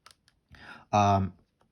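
Keys being pressed on a calculator while a function is entered, a short soft patter of taps followed by a person speaking briefly nearby.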